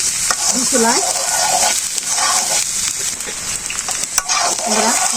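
Potatoes fry in a village kitchen with a loud, constant sizzle, broken by scraping stirs and a few brief voiced sounds in the background.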